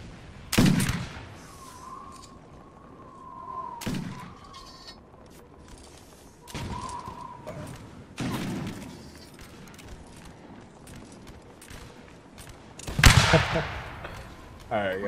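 Scattered musket shots and a few louder volleys crack out in the Napoleonic Wars video game, some near and sharp and others farther off, separated by quieter gaps with background battlefield noise.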